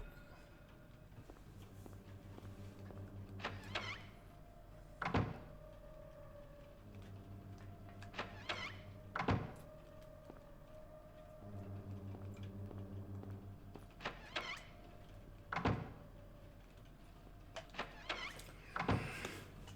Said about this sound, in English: So I've unlocked all of those doors.